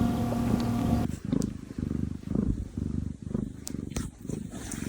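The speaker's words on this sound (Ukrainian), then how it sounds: "Так, сплять котики." Sleeping cats purr in a low, rhythmic rumble with soft pulsing cycles, close and gentle, after a short stretch of a steadier tonal background sound.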